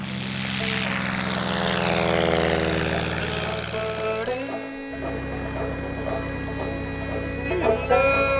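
A propeller airplane drones loudly and steadily while towing a glider, its engine pitch shifting and dropping away abruptly midway as the tow releases, leaving a quieter whine.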